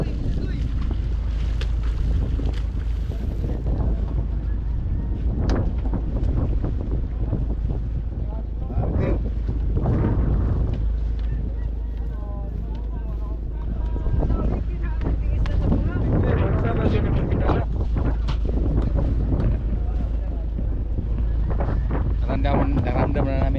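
Strong wind rushes and buffets the microphone on a small fishing boat at sea, a constant loud roar with bursts of gusting noise while people talk now and then.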